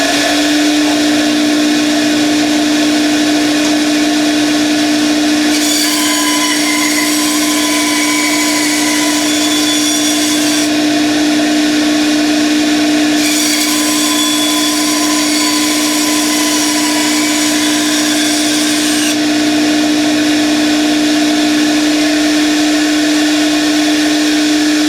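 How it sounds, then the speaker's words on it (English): A Rikon dust collector drones steadily and loudly nearby as a bandsaw cuts through a 2x4, giving two bursts of brighter, hissing cutting noise over the constant hum. No one talks. "What I'm gonna do is gonna cut a 2x4, no dust on the table."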